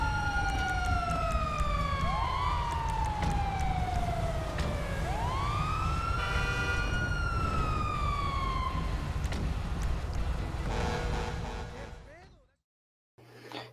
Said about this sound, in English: if we can get a siren check, please.